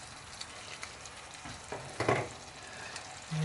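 Tomato paste is stirred into ground beef frying in a pan, a steady close sizzle with a brief scraping stir near the middle, no voices.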